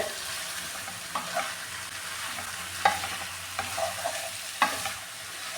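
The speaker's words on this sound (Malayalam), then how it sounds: "ഇതെല്ലാം കൂടെ നന്നായിട്ടൊന്ന് മിക്സ് ചെയ്തെടുത്തിട്ടുണ്ട്" A spatula stirs green chilli masala for chicken biryani in a pan, with soft sizzling underneath and a few sharp scraping clicks against the metal, close and unaccompanied by talk.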